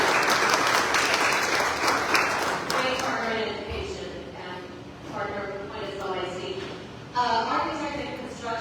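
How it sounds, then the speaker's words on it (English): A school district community gathering applauds the South Padre Island Police Department, with broad clapping strongest at first, then thinning under talking voices before a short swell near the end. "So big round of applause to South Padre Island Police Department."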